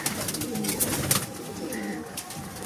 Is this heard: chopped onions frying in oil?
no